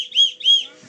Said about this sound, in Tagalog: Oh, may pito siya, daddy.